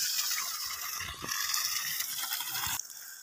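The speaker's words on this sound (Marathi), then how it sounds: "बघू शकता तुम्ही हा पाण्याचा प्रेशर किती देतोय।" A Sahaj Rotosol 3 HP solar borewell pump discharges water in a steady, broad rushing splash that stays constant and close throughout, with a slight drop in level near the end.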